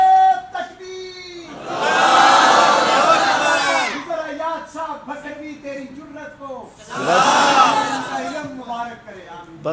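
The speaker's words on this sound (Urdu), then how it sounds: "بس بھائی بس نعرے نہ لگاؤ" Friday sermon congregation bursts into loud chanted religious slogans, two strong swells of many voices shouting together, separated by someone talking over a mosque loudspeaker.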